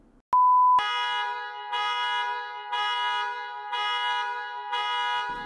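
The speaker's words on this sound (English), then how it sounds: "I forgot to tell him about the alarm" A loud electronic alarm in a small kitchen: a short steady tone, then a harmonically rich buzzing beep that repeats at an even pace of roughly one pulse per second, continuing alone without speech.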